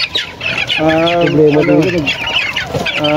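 Chickens at a poultry farm in Fairview cluck and squawk loudly and close up, with overlapping bird calls throughout and one drawn-out tonal call in the middle; crowd noise sits faintly underneath.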